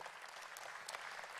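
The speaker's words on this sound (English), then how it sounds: "Donc nous les applaudissons" Conference audience applause at the 2021 World Policy Conference in Abu Dhabi, a dense, steady patter of many hands clapping in a large hall, heard at a moderate distance and fairly quiet, with no talk over it.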